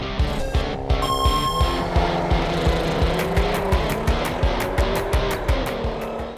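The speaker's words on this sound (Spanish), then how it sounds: "te escucharé el cantar de tu magnífico motor" A Volkswagen engine revs loudly as the car drives past on the road, a sustained rising and falling engine tone with rapid rhythmic pulses, close and unbroken throughout.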